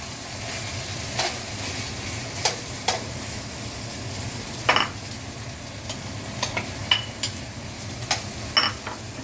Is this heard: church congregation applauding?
no